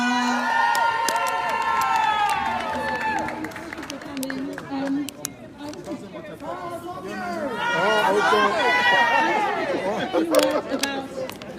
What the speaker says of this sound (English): please give a round of applause for Desola.